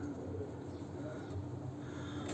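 Delifşek pigeons in a loft flock give low, soft cooing that runs steadily through the whole stretch, close by over a constant background hum.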